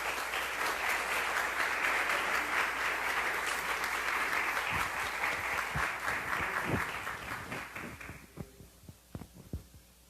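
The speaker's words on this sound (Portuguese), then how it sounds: "Vamos aplaudir Jesus pela vida dela." Church congregation applauding during an evening worship service, dense sustained clapping that thins out and fades into a few scattered claps near the end.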